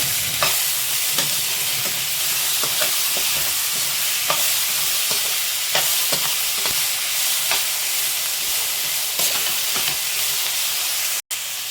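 Tomatoes and ginger stirred in a frying pan over steady sizzling, with spoon scrapes and taps recurring every second or so, close and fairly loud throughout.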